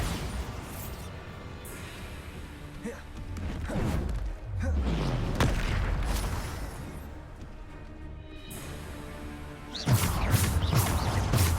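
Bombarda spell explosions in Hogwarts Legacy, several heavy crashing thuds and blasts scattered across the stretch, with whooshing spell noise and game sounds between them.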